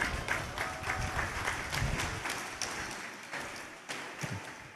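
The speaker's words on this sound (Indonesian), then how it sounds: "Sekarang tepuk tangan" A large crowd claps during a Maulid Akbar gathering at Nurul Jadid Islamic boarding school in Probolinggo, East Java, a continuous, fairly distant wash of applause with scattered louder claps and surges.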